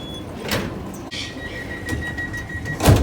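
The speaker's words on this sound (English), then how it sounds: "And door closing." A Sydney Light Rail Citadis 305 tram's door slides shut, with a sharp thud partway through followed by a steady electronic tone and rustling onboard noise, then a knock near the end.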